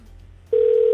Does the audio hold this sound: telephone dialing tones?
yes